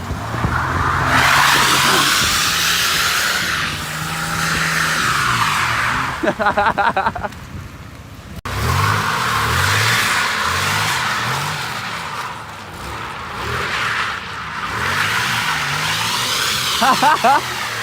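A car with a welded differential spins and skids its tires, with repeated loud squeals and engine revs rising and falling in bursts, close up, while people talk over it.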